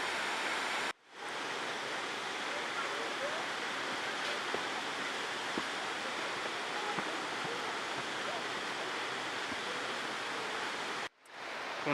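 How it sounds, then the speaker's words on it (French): A waterfall in the Auvergne roars as a steady, broadband rush of falling water, close and constant, cut by two brief breaks near the start and end. "une cascade hors du commun"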